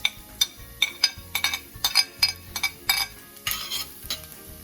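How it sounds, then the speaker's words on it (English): Garlic dumped into a hot pot on a stove set near medium, for Jamaican brown stew chicken: a light sizzle under repeated close clinks and scrapes of a spoon against the pot. "I want to go ahead and just dump in my garlic first"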